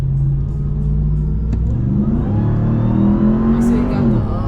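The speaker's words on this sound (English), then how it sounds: "Sounds so good with the supercharger." A supercharged 2022 Ram 1500 TRX pickup's engine rumbles loud and close, its pitch climbing as it revs and pulls, with voices talking over it.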